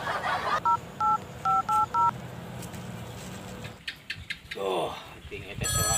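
A telephone keypad plays dialing tones, a quick series of short beeping touch-tones, bunched two and then three, heard close, followed by rustling, clatter and background voices.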